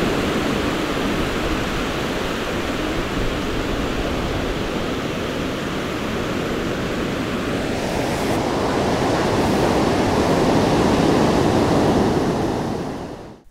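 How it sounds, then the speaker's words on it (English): Ocean waves roll in steadily on a Hebrides beach, a continuous broad wash of surf with a slight swell toward the end and no voices. "And the waves are rolling in."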